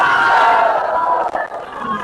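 A large crowd at a political rally in Mansehra chants and roars loudly together, a dense, continuous mass of voices with a brief dip partway through.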